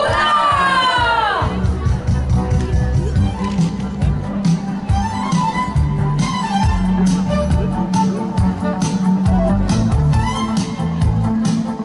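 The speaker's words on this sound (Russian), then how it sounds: "Ваши бурные аплодисменты участникам парада" A crowd at a Surkharban festival parade cheers and shouts in loud bursts after a rising whoop, with children's voices and applause filling the space.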